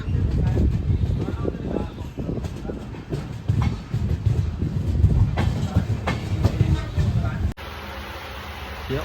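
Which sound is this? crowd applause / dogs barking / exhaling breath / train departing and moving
train departing and moving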